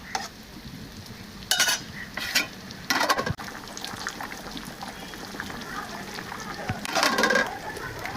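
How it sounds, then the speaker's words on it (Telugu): Pieces of food sizzle and fry in a pan on a home stove, a steady hiss with bursts of stirring and utensil scraping against the pan, under intermittent talk. "ఇవైతే ఫ్రై అవుతూ ఉన్నాయండి"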